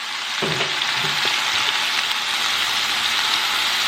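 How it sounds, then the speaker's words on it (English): Food frying in a pan while being stirred until browned, a loud continuous sizzle like heavy rain with a couple of scraping utensil strokes early on. "And I'm going to stir it until it's brown."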